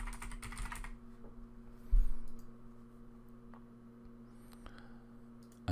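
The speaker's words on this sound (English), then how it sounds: "just so you're not forced to sit there and listen to me type" Scattered keystrokes tap on a computer keyboard while coding a Java class, a few soft clicks and one sharper thump over a steady low electrical hum, with no talking.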